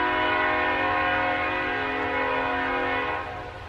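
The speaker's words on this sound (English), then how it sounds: "Darn trains." A passing train sounds a sustained, steady horn chord for about three seconds, loud and close, then fades slightly as it moves on.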